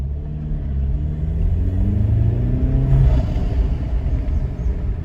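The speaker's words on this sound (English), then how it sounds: "it helps you hear the turbo a little bit more, and it helps it breathe better" Alfa Romeo Giulia fitted with a BMS intake accelerating uphill, a loud steady engine rumble climbing in pitch as revs build, with turbo whoosh under it and no talking.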